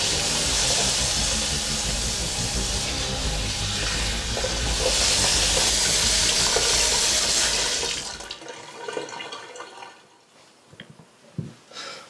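Water runs steadily from a tap as hands are washed, a loud close hissing flow for about eight seconds before it cuts off, leaving quieter drips, rubbing and small knocks.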